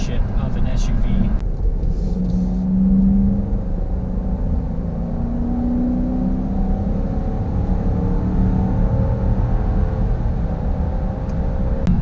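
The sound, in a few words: 2019 Dodge Durango R/T SUV driving on highway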